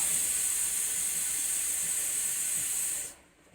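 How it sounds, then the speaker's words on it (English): Water with orange peel at a rolling boil gives off a steady, loud steam hiss that runs unbroken for about three seconds, then drops away abruptly to near quiet. "let it boil, come to a boil, until it's steam"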